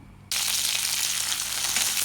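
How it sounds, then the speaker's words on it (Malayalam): Chopped okra hits hot oil in a pan and breaks into a sudden, loud, continuous sizzle that holds steady to the end, with no talking. "എണ്ണ ചൂടായിട്ടുണ്ട് അരിഞ്ഞ് വെച്ചാൽ വെണ്ടയ്ക്ക വറുത്ത് ഇടാം"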